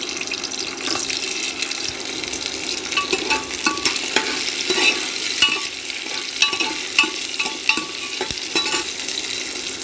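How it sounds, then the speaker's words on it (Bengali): Onion pieces and whole garam masala frying in white oil, a busy crackling sizzle with sharp clicks and scrapes of stirring scattered through, close and steady with no speech. "এবার গোটা গরম মশলা দিয়ে দিলাম, বড় বড় টুকরো করে কেটে রাখা পেঁয়াজগুলো দিয়ে দিলাম"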